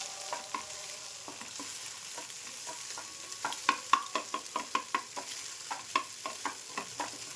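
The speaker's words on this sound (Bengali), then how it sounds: "তো একটু ভালো করে একটু লাল লাল করে ভেজে নিয়ে ফ্রাইড রাইসের মধ্যে দিয়ে দিই" Egg frying in a pan for fried rice, a soft steady sizzle under repeated sharp spatula taps and scrapes against the pan, clustering in a quick rhythmic run midway.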